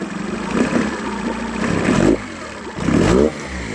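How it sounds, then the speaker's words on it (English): A mid-pitched boat engine on a Dell Quay dory runs steadily, close by, rising in bursts of revving before dropping back to a rough idle. "So we have a running engine."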